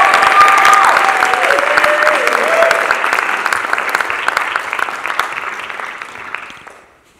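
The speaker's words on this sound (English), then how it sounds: "Please give them a huge round of applause." A live audience claps warmly for a dance troupe at a Juneteenth event, loud sustained applause with a few cheers that gradually tapers off toward the end.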